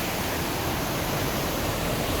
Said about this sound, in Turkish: Şelalenin sesi yeterli.